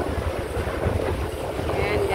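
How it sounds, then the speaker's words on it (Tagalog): Steady wind rushing across a microphone on a ship's deck at sea between Puerto Galera and Batangas, over a low rumbling engine hum, with faint voices mixed into the broad blustery noise. "Mahangin guys, sarap ng hangin."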